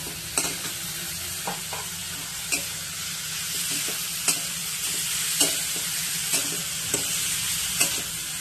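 Shredded cabbage and chopped tomatoes sizzle steadily in a hot pan while a spatula taps and scrapes at regular intervals.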